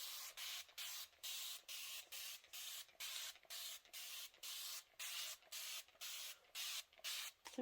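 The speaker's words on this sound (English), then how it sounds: "I'm going to go ahead and spray this" A spray bottle mists water onto quilt fabric in about a dozen short, even hissing bursts. They repeat at a steady rhythm, close and clear, with no talking.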